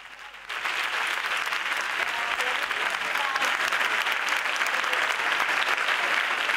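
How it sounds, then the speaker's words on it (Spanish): Crowd applause at the 2020 San Roque carnival proclamation breaks out after a brief pause and carries on as a loud, even roar of many hands clapping without letting up. "Un aplauso"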